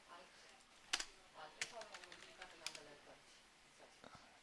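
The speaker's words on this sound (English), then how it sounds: "I am slow at typing." Faint, irregular keystrokes on a computer keyboard, a few clustered clicks and taps spread over a few seconds in a quiet room.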